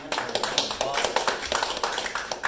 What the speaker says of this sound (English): if we could all just give a round of applause.